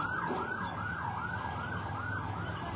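A wailing ambulance siren rises and falls in steady cycles, heard at moderate distance over a low traffic rumble.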